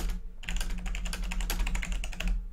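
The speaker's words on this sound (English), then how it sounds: "That was me typing on the Orion Spark once again." Rapid, even clatter of keystrokes on a Logitech G910 Orion Spark mechanical gaming keyboard, close and crisp, starting after a short pause and running for about two seconds before stopping.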